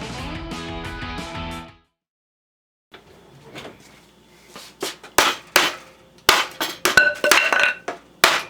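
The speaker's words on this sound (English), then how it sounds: "The stapler doesn't quite go all the way through this wood, so I just thought I'd smack them in a little better" Sharp hammer strikes drive staples into the wooden frame of a homemade soil sifter, a loose series of about a dozen loud, close metallic impacts arriving in quick irregular bursts after a brief quiet stretch.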